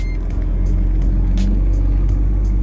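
A twin turbo Ford Shelby GT350 rumbles at idle nearby, a steady low throb with faint higher hiss, at moderate loudness and heard alone.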